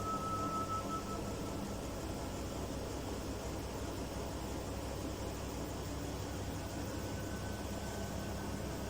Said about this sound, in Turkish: Evet son sıkmasına başladı son sıkmaya.